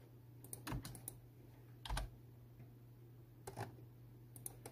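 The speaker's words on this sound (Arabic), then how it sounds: "نضغط انتر، نكون حصلنا على النافذة." Keystrokes on a computer keyboard, including a press of the Enter key, during plugin work in SketchUp: a few sharp, close clicks spaced out over a quiet background hum.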